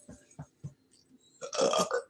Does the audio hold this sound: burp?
yes